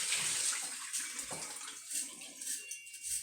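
Water poured out of a glass sprouting jar after an overnight soak, a steady splashing pour running close and fairly loud for the whole few seconds, alone with no talk.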